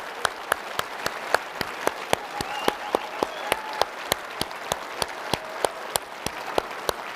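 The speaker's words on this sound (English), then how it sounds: "we want to recognize you with applause for the wonderful athletes and people you've raised" Audience applause at the Bowerman presentation as athletes' parents stand to be recognised: steady crowd clapping with a sharp, rhythmic clap cutting through near the front, continuous for the whole stretch.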